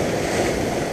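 Sea waves wash against the shore at Limni, a steady close rushing of surf mixed with some wind noise, heard alone without speech.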